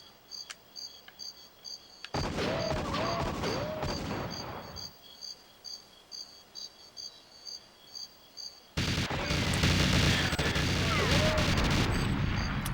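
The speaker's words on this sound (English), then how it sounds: "Who are you shooting at, Natalia?" Gunfire in GoldenEye 007 rattles in two long, loud bursts of rapid shots, separated by a stretch of short, evenly spaced single reports over a steady high electronic tone.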